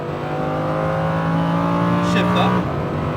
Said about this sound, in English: point the car towards the exit. Accelerate.